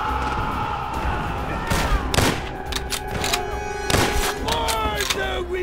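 Gunfire from Call of Duty: World at War on PC: several sharp, loud shots and bursts crack over a steady battlefield background, and a voice shouts commands between them.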